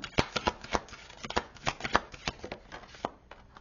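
Tarot cards being shuffled by hand, a quick run of crisp riffling flicks and slaps in an uneven rhythm, close and fairly loud, with no talking.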